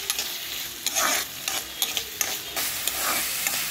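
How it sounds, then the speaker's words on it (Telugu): Onions fry in oil in a pan for a curry, with a steady crackling sizzle and intermittent scraping stirs, fairly close and without talk. "ఆనియన్స్ కొంచెం వేగే వరకు ఉండాలి"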